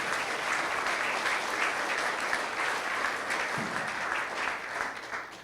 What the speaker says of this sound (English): Tom, we can give you a round of applause